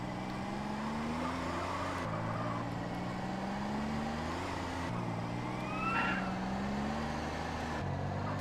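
A police car siren in Grand Theft Auto: San Andreas wails over steady car engine and traffic noise during a chase, a rising-falling tone running through the whole stretch, fairly loud and with no talk.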